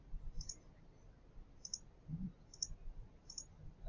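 Mouse clicks while retouching skin in Photoshop, four light, evenly spaced clicks against a quiet background with no talking.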